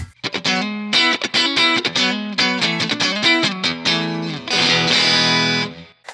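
Electric guitar played through the AmpliTube 5 Fender-style '65 Super Reverb amp model: a driven, slightly distorted tone picking a busy run of notes and chords, ending on a held strum.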